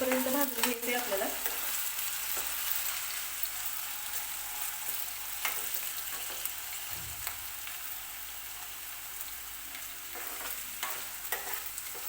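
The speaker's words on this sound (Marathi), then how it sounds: "बटाटा व्यवस्थित तेलामध्ये सॉफ्ट होईपर्यंत भाजून घ्यायचे आपल्याला." Potatoes fry in oil until soft for a potato peanut amti, giving a steady close sizzle with occasional scrapes and clinks as a spoon stirs the pan, and no talk.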